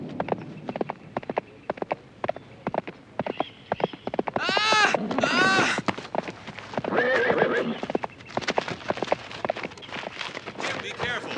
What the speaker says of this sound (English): Get away from that horse.